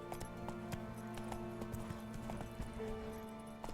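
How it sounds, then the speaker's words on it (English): Horse hooves clip-clopping in The Witcher 3 video game, a regular rhythmic trot of distinct hoof strikes, fairly quiet, over a low ambient game hum with no speech. "That's a nice horse, but you know, it's inferior to Roach."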